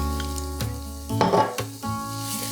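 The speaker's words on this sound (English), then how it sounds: "We're going to bloom these off and cook this flour a little bit. It's like a roux style." Flour cooking in hot oil for a roux, with the pan giving a close, bright crackling sizzle that flares around the middle while a steady tonal hum runs underneath, no voices.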